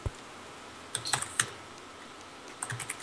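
Keystrokes on a fairly new computer keyboard, a few quick clustered clicks in short bursts, close and fairly quiet, with no talk.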